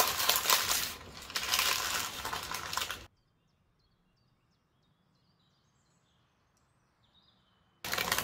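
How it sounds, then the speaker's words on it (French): Parchment paper crinkles and rustles loudly for about three seconds as a jam-filled génoise sponge is rolled up, then goes quiet before the rustling resumes briefly at the end. "Et maintenant, je vais venir rouler en mettant du papier sulfurisé."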